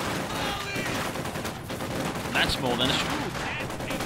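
Gunfire rattles in the Company of Heroes 2 strategy game, with dense bursts and crackling shots layered under a commentator talking over the battle.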